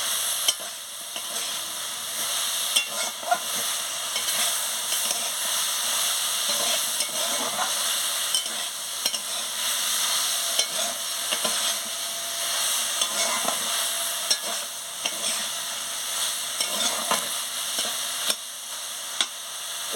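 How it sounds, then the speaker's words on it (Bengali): A spice paste with water is fried and stirred together with pumpkin flowers, potatoes and vegetables in a pan, a steady close sizzle under repeated scraping strokes and small clicks of the spoon against the metal. "দিয়ে মশলাগুলোকে ভালো করে কষিয়ে নিচ্ছি"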